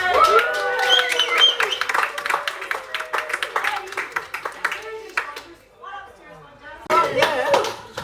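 Café diners at a Christmas dinner applauding the staff, a burst of close, lively clapping mixed with cheers and chatter, thinning out midway and then swelling again briefly near the end.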